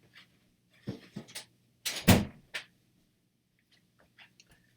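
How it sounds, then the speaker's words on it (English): A door is shut indoors with a single firm thud, set among a few softer handling knocks and rustles in an otherwise quiet room. "Hold on, let me close the door here"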